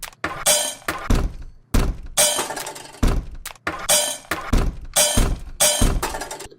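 Long foley hit sample used as a drum fill, a repeating pattern of crashing, shattering glass-like impacts mixed with deep thunks, tightly rhythmic and loud, with no talk.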